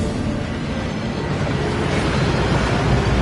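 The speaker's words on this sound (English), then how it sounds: "That waterfall washes away all enchantments." A waterfall inside a Gringotts vault tunnel in the video game Hogwarts Legacy roars as a dense, steady rush of falling water, loud and continuous with no voices over it.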